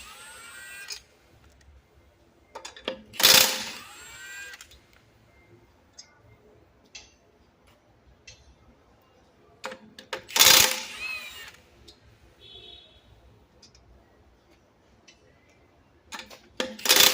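19mm lug nuts come loose from the rear wheel of a Toyota Prius C in two short, loud rattling bursts from a power tool, separated by long quiet stretches.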